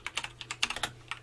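Quick, uneven keystrokes on a computer keyboard, about a dozen close, crisp taps in a short burst with no voices.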